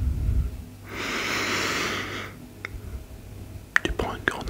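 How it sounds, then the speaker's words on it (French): A slow, deep breath taken close to the microphone in a calm ASMR setting, one long airy inhale lasting over a second, followed by soft clicks and faint whispery sounds. "Tu prends une grande respiration,"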